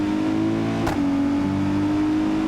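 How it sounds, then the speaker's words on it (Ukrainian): A Mercedes car driving at full throttle gives a loud, steady engine drone with a sustained tone, briefly dipping once partway through before pulling on strongly. "Повний газ."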